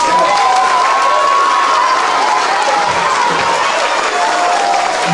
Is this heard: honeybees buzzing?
no